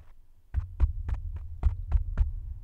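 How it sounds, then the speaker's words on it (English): Repeated hand taps on a microphone mounted on a scissor-arm boom stand: seven dull, thumping knocks at an uneven pace, close and boomy, with a low hum underneath and no talking. "that's me tapping the mic"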